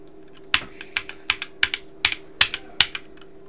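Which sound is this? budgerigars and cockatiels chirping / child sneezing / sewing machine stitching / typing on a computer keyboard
typing on a computer keyboard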